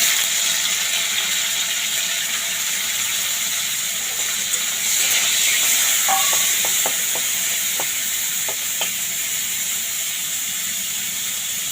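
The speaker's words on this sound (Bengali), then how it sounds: "এবার আমি উচ্ছেটা ভেজে নেব আগে।" Bitter gourd sizzles steadily in hot oil in a kadai, a loud, constant frying hiss with a few small clicks and pops partway through.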